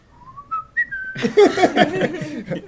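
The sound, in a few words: person imitating a whistle through the teeth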